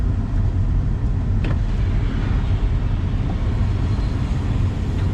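Car driving along the road, a loud, continuous low rumble of engine and tyre noise from inside the vehicle, steady throughout with a brief faint click early on.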